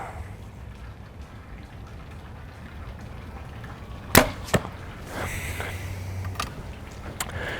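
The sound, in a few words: Darton Veracity bow shot, thud pop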